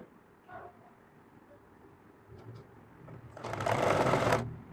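A sewing machine stitches a salwar, a short low whir early on, then a loud steady mechanical burst running near the end, close by, with no talking.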